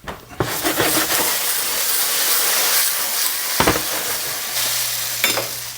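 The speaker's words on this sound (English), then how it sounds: "Go over to the stove here and shake my pan quick here." Potatoes and sausage fry in a stovetop pan for a curry dish, a steady loud sizzle broken by a few scraping bursts as the pan is shaken and stirred.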